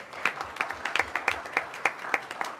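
A school board meeting audience clapping for an award-winning teacher, sparse individual claps ringing out in an uneven rhythm from a small crowd, fairly close and distinct.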